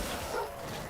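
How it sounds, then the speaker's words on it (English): Dogs in the video game Enshrouded let out one short bark-like yelp, moderately loud within a brief dense burst of game sound. "Dogs."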